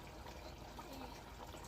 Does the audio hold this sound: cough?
no